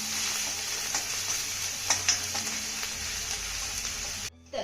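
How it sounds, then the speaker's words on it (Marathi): Ginger, garlic and coriander stems sautéing in a pan on high flame, a loud continuous sizzle with a few brief stirring scrapes, cutting off abruptly just before the end. "हाय फ्लेम वरती हे सर्व साहित्य ना 1 ते 2 मिनिटं चांगलं परतून घेऊया."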